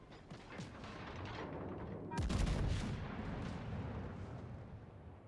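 Naval guns fire HE shells in the World of Warships video game, with faint distant shots followed by one heavy booming salvo midway that rumbles and fades.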